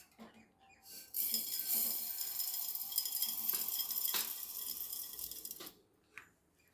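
Ingredients dry roasted in a pan until reddish, giving a steady dry rustling sizzle and stirring scrape that starts after a quiet moment and runs several seconds before fading out, with no talk.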